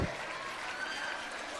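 Applause from a school drama audience for a character playing a politician, a steady broadband patter of clapping sustained throughout at moderate level.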